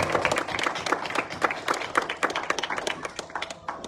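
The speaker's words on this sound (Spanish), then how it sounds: "Vamos a darle un aplauso al Señor para que podamos ser partícipes." A church congregation claps together in a dense, fairly close round of applause that holds steady for a few seconds before thinning slightly.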